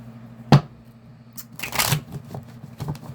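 Quick papery riffling and flicking of tarot cards being shuffled, a sharp snap near the start followed by a longer burst of shuffling, close and moderately loud.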